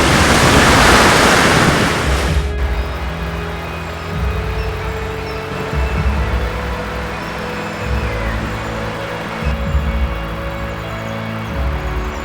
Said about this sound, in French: Il n'y avait pas des vagues comme ça hier.